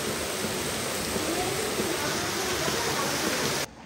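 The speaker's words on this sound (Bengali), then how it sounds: "বৃষ্টির পরিমাণ দেখো, খুব জোর বৃষ্টি হচ্ছে" Heavy rain pours down steadily under a dark, overcast sky, a dense, even roar of broadband hiss that holds constant before cutting off abruptly near the end.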